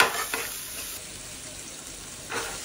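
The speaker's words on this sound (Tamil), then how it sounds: "சால்ட்டு போட்டு கொஞ்சம் நல்லா வதங்கட்டும்." Potatoes and onions sauté with salt in a pan for a Tamil potato poriyal, giving a steady low sizzle, with brief stirring scrapes at the start and again near the end.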